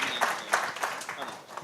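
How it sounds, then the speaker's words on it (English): A short burst of applause from a conference audience, steady and fairly dense, fading slightly toward the end. "Big round of applause, please"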